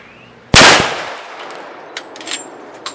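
A single loud, sharp crack from a 300 Win Mag rifle fired at a backpack outdoors, followed by a ringing decay and a few faint clinks and rustles afterward.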